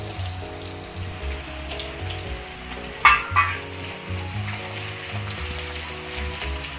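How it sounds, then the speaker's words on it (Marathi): Curry leaves and two chopped onions crackle and sizzle in oil left from frying fish, a dense close hiss with a sharp spatter burst midway and steady frying throughout, no one speaking. "आता या मच्छी तळलेल्या तेलामध्ये आता मी कढीपत्ता टाकत आहे, कांदा, 2 कांदे चिरून घेतलेले आहेत"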